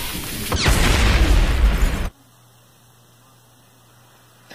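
A loud explosion sound effect from the film Richie Rich's Christmas Wish: a dense, roaring blast that sustains for about two seconds, then cuts off abruptly into near silence.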